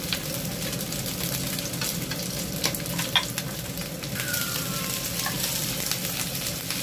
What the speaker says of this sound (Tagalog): Lutuin po natin siya hanggang mag-turn pink, hanggang maging pink po ang kulay ng ating hipon.